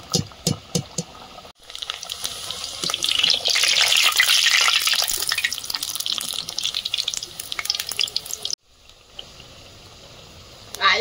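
Naan frying in hot oil that has turned it slightly reddish, a bright steady hiss swelling after a brief pause and running for several seconds before cutting off, followed by a quieter bubbling tail.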